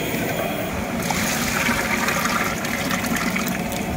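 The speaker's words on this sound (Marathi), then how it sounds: "आता याच्यात थोडं गरम पाणी टाकून पातळ करून घेत आहे" Hot water pours steadily into a large pot of toor dal, a continuous splashing gush that holds for several seconds at close range.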